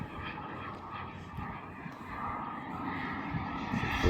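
Hangar 9 Hawk RC model airplane engine at full throttle, a steady droning whine from the aircraft in flight at a distance, with faint voices underneath.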